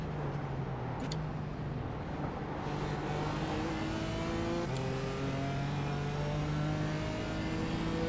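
In the iRacing sim, a race car at the Brands Hatch circuit revs and accelerates through its gears as a steady, continuous in-car engine drone. The sound is loud and rises in pitch as the car builds speed.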